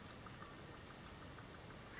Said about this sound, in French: je crois que c'est de la pluie mélangée à de la neige.